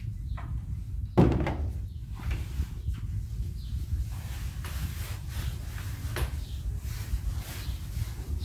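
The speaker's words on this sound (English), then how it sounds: "Main door." The main door of a building on North Street, Jarrow, opens with a loud clunk and a heavy knock, then rubbing, shuffling movement and a second fainter thud as it closes, all over a low steady background rumble.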